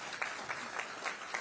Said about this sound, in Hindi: आप सभी अपनी शुभकामनाओं रूपी तालियों को मंच तक पहुंचाएं।